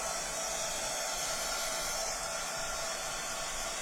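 A heat tool or dryer blows over mixed media mediums on a gingerbread box, a continuous steady airy whoosh at an even level from start to finish.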